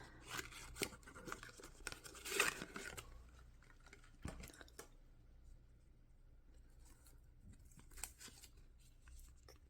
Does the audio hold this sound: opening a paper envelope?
yes